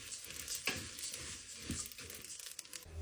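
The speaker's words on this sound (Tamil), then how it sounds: "இந்த பட்டரில் இந்த அரிசி பொரிகிற மாதிரி நல்லா ஒரு 5 நிமிஷம் கலந்து விடணும்" Rice frying in butter while being stirred in a pan as it is toasted for coconut milk biryani rice, giving a soft, steady sizzle with scraping stir strokes, fairly quiet and close.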